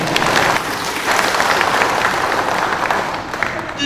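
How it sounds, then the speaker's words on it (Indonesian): Government officials applaud together at a regional administration gathering, a dense, steady roar of many hands clapping that fills the whole stretch at close range, with a faint murmur of voices mixed in. "Ayo tepuk tangan semua."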